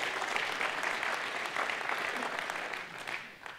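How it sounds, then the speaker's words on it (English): Audience applause at a Trout Unlimited gathering, celebrating the Tongass National Forest: steady, dense clapping from a crowd that holds evenly throughout, then eases slightly near the end. "Yeah, you can clap for the Tongass."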